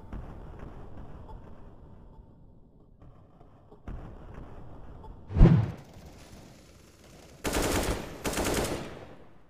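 A first-person shooter match with gunfire: a single sharp shot, then two dense bursts of rapid fire near the end, over quiet game ambience.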